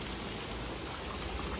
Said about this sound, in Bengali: মাংসটা জল দিয়ে দিয়েছিলাম, এখন ফুটছে।